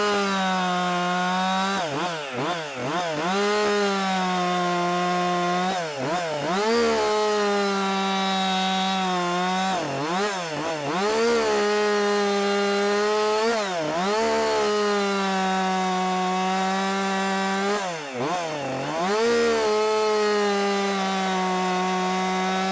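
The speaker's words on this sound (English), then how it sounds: "Let's see if this chain's cutting any better here." A chainsaw cuts steadily through a resinous fatwood snag, its engine held at a loud, near, continuous whine that dips briefly every few seconds as the chain bites and the saw is repositioned.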